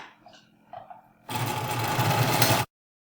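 A sewing machine stitching a piece of striped Lone Star quilt fabric runs in one steady, loud burst of about a second and a half after some quiet handling, then stops abruptly.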